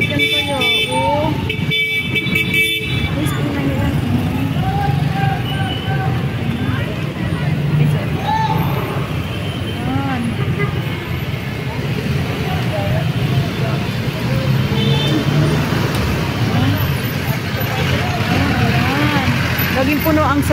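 Heavy road traffic with jeeps and other vehicles, a constant dense roar of engines with occasional horn toots, loud and close, under street crowd babble and a person talking.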